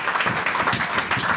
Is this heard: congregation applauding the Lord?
yes